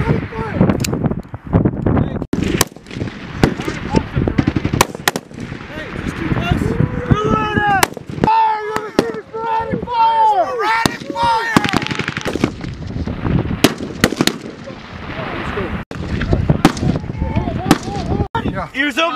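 Sporadic rifle shots crack out irregularly during a Marine rifle squad competition at Camp Lejeune, sharp reports scattered across the span amid shouted commands and talk, with wind buffeting the microphone.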